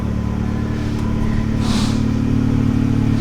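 A Fiat 500 Abarth's small engine drones steadily, heard from inside the car at a constant, fairly loud level with a low, buzzy tone and no talking.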